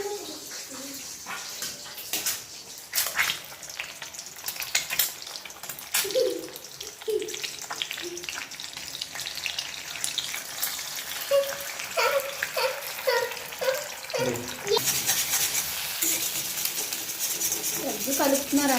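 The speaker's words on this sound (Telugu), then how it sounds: "ఎగ్ కలుపుతున్నారనమాట." Two eggs cracked into a frying pan are stirred in a home kitchen in Kerala while noodles are being cooked. A soft sizzle runs under repeated scraping and clinking of the utensil, and voices talk throughout.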